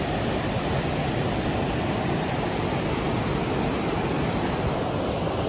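A mountain river in the Julian Alps rushes in a loud, steady broadband roar of churning water, heard close and continuous with no voices.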